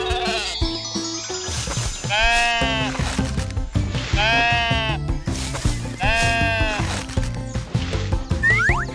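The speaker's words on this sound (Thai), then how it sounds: "แกะแบะแบะแบะแบะ แกะ แกะ ชีพ แกะ" Sheep bleat three times in a regular rhythm, loud, wavering cries about two seconds apart over steady background music, with a shorter bleat at the end.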